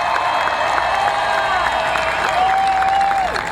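Large crowd at a 2008 Obama and Clinton campaign rally in Kissimmee cheering and applauding Senator Bill Nelson, a loud continuous roar with whistles and shouts throughout.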